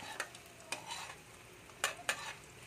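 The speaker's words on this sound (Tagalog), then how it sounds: "So halu-haluin lang natin hanggang maluto" A spatula stirs food frying in a pan: a steady sizzle is broken by a few sharp scraping strokes spaced apart, close and fairly quiet.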